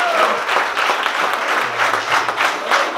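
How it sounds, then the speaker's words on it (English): A crowd claps for a DJ induction, a dense, close round of applause that rises and falls in small waves over a few seconds, with no speech on top. "Please give a clap for that."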